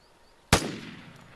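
A single sharp M16 rifle shot fired on semi-auto at cans in Vigor, a crisp loud crack followed by a short decaying echo, with near silence before it.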